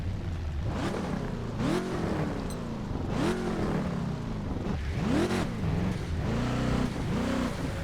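Gumper Poloo car engine in Test Drive Unlimited 2 revving in repeated rising and falling surges, loud and close, with a steady low rumble between bursts and no talk.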